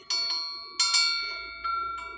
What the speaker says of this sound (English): Just play that wind chime.